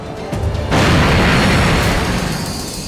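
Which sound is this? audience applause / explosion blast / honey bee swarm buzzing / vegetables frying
explosion blast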